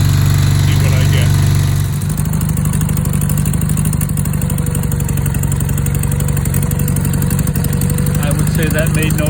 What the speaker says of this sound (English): I'm going to let it idle for a while, or run for a while, warm up.